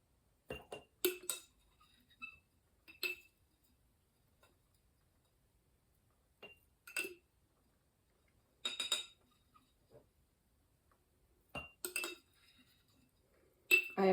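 A metal teaspoon clinks against a jar or cup while scooping dried lavender for a tea blend, with sparse, brief, close taps scattered in small clusters between long quiet gaps.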